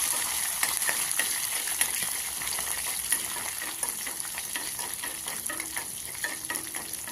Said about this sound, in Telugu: కొద్దిగా కరివేపాకు, కొద్దిగా కొత్తిమీర కూడా యాడ్ చేసుకుని మరొకసారి ఫ్రై చేసుకున్న తర్వాత